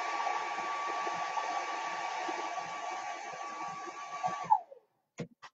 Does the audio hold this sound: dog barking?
no